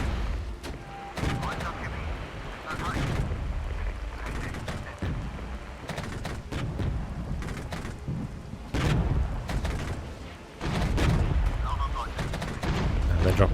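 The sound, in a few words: artillery strike in Regiments video game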